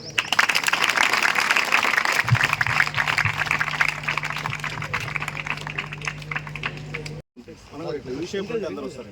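Dense applause at a public foundation-stone ceremony for development works led by a BJP legislature party leader, clapping loudly for about seven seconds over a steady hum before cutting off and giving way to a speaking voice.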